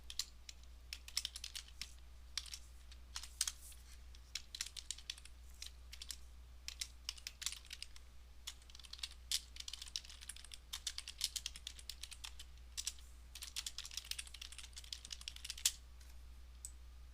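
Rapid, irregular keystrokes on a computer keyboard, light and fairly close, clicking continuously for an extended stretch over a faint steady hum, with no talking.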